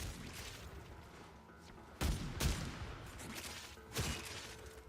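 Chinraga weapon fired in the shooter game Warframe, three sharp bursts spaced about two seconds apart over a steady low background hum, moderately loud, with no talking.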